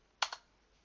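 A computer keyboard typed on while searching on Linux, a quick pair of close, sharp key clicks in an otherwise quiet room.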